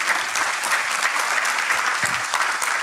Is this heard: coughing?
no